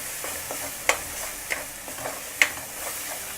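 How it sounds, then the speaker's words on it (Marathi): Ingredients for Malvani futi kadhi are stirred in a pan over a full flame, a soft sizzle broken by three or four distinct scraping clicks of a spoon against the pan at uneven intervals. "छान परतून घेऊया."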